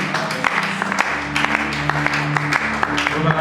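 Church audience applauding at a Christian youth gathering, a steady wash of scattered claps with a sustained low tonal hum beneath, fairly close and continuous throughout.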